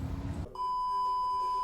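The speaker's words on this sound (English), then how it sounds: "the equipment was backing up and beeping" Steady electronic beeping, a sustained high tone from construction machinery reversing during a stadium renovation, following a short burst of rumbling noise.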